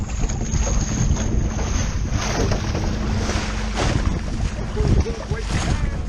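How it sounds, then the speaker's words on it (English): Strong wind buffeting the microphone in loud gusts, with water sloshing around a boat in the background, out stone crabbing in the Florida Keys. "Sorry for all the wind, but it's freaking windy."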